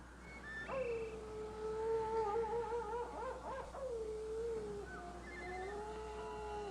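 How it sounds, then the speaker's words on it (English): A wolf gives one long, wavering howl in a Western TV episode. The howl rises, bends and falls over several seconds at mid distance, with a faint steady background hum and no talk. "A wolf is supposed to howl 3 times."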